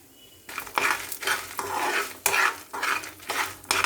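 Cumin seeds, peanuts and garlic cloves frying in a pan over a low flame, stirred in repeated scraping bursts with a steady sizzle underneath; close and fairly loud, with no talking.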